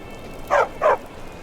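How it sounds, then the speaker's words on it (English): Dogs in Skyrim giving two quick barks in succession, moderately close and clear over a quiet background. "Two dogs here now, Iskrimor and Toba."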